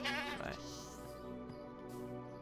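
A Minecraft goat bleats in a wavering cry near the start, with a voice talking over the game sounds for the rest.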